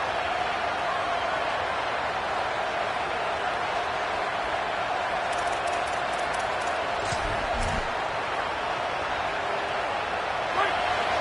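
In the college football video game College Football 27, a crowd roars as a steady, dense wash of stadium noise under an ongoing commentator's voice.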